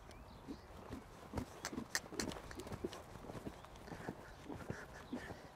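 Horse's hooves on arena footing during a canter-to-trot transition, soft rhythmic clip-clop thuds that are faint and steady, with quiet background noise.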